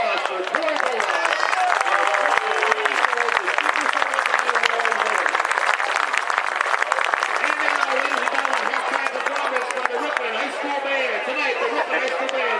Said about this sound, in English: Ladies and gentlemen, a nice round of applause for Corey Ballard.